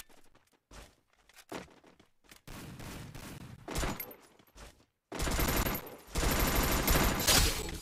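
Rapid bursts of gunfire in the Free Fire Clash Squad mobile shooter: short volleys and loud sustained automatic fire separated by brief silences, with scattered footsteps and crunches between them.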